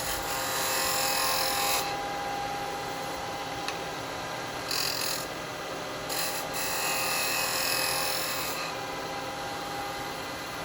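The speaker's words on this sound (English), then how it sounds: "now I'm going to use my spindle gouge just to clean up this edge" A spindle gouge cleans up the edge of a wooden toothpick holder turning on a lathe, giving a steady, close scraping hiss with brief breaks where the tool lifts off the spinning wood.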